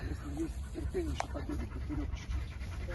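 Dogs pant in the heat while posing in different positions during a photo shoot, quick rhythmic breathy puffs close by, with people talking in the background.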